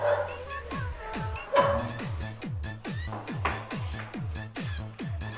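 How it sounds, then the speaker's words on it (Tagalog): A dog barks in a rapid repeating series of yips and bow-wows close to the microphone at a house with freshly painted steel stair railings, the barks coming in a steady rhythm with a person's voice mixed in. "Ito yung aso kong makulit."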